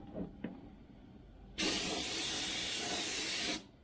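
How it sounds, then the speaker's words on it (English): Brake parts cleaner sprays onto new rotors for a 2015 GMC Sierra Z71 rear brake job in one steady, loud hiss lasting about two seconds, after a few faint handling clicks. "some brake parts cleaner and blast these new rotors off"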